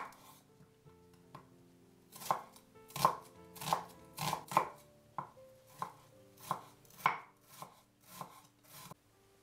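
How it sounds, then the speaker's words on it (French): Leeks and an onion being sliced with a knife on a board, about a dozen crisp, evenly spaced chops, close and clear with a quiet background. "J'émince 150 g de poireaux. Un oignon."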